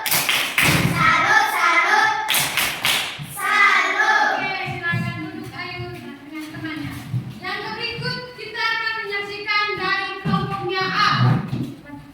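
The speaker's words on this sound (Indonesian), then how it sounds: "Tepuk salut. Salut, salut, salut." A classroom group performs a rhythmic salute clap, bursts of hand claps and thumps in a patterned beat, interleaved with a teacher and children chanting and speaking.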